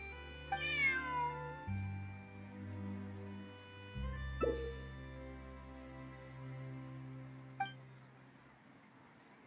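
A cat in the video game Genshin Impact meows three times at spaced intervals, the cries clear and close over sustained, gentle game music.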